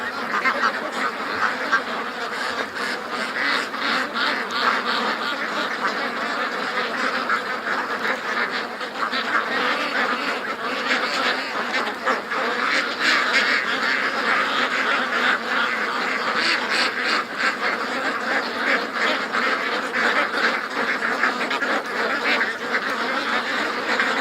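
A flock of ducks quacks and honks continuously in a swamp, a dense, close, overlapping chorus of calls that carries on without pause for the whole stretch, with no talk.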